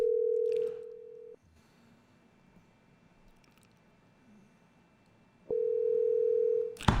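An outgoing telephone call produces a steady ringback tone: one long even burst of roughly a second, a gap of about four seconds, then a second long burst, clear and close, with no one talking.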